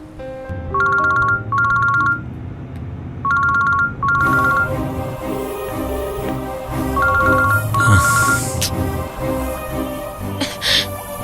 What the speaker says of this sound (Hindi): उसे फोन कर रही हूँ, लग ही नहीं रहा